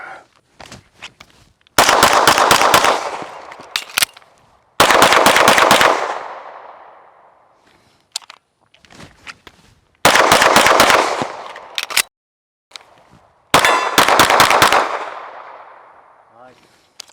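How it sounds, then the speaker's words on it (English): Pistol fire from a Sig Sauer P365-FUSE during dynamic shooting, heard as four loud bursts of rapid shots, each string followed by a ringing decay, with short quiet gaps and faint clicks between strings. "we're just doing some kind of dynamic shooting with this P365 fuse"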